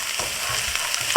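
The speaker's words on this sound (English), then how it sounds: "Next we'll add in the carrot. Stir it, stir fry it." A carrot is stir-fried in a pan, giving a brief, close sizzle with soft scraping stirs and small crackling pops.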